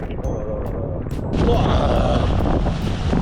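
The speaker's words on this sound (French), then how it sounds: "on se tape un vent sur la côte" Loud coastal wind rushing and buffeting the microphone of a cyclist riding near Savona, Italy, growing stronger partway through, with a low mechanical rumble underneath.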